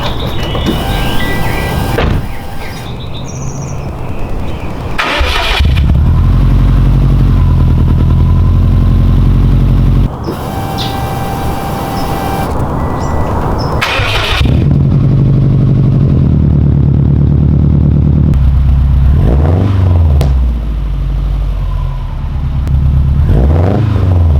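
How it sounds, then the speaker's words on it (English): A Subaru WRX with a new aftermarket exhaust starts up and revs, the loud, close engine note rising and falling through several throttle blips over a steady idle. "I'm going to go ahead and get the car on the ground, start it up, and see what it sounds like."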